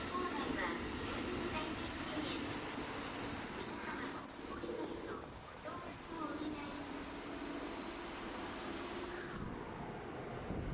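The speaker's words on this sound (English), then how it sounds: "It was a cutely colored train." A colorfully painted local train in Hyogo, Japan rumbles past at moderate distance, a steady mechanical rattle and rolling noise lasting about ten seconds before cutting off abruptly.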